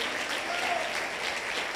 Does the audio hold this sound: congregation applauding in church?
yes